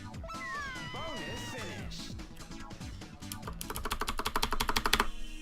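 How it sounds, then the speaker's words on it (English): Rapid, loud clattering of a computer keyboard typed during a Super Monkey Ball Deluxe speedrun, building into a dense burst of keystrokes over game sounds. "Sorry for the loud keyboard."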